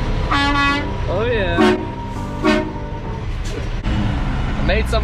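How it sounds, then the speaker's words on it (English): A truck's loud air horn honks several times in short bursts, with people talking and chatting excitedly over it. "we confused a couple other people by honking our train horns"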